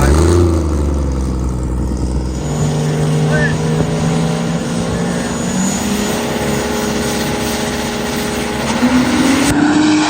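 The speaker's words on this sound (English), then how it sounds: "Sounds like an old Ford truck." A loud old Ford truck engine roars and revs at a truck burnout contest, its pitch rising and falling over a steady rumble, with background noise from a crowd or track.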